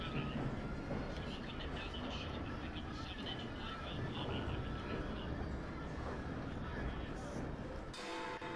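Runaway train in the video game Assassin's Creed Syndicate: a steady, loud rumble of rolling rail cars with a rattling clatter, heard throughout under game noise and voices, ending in an abrupt shift near the close.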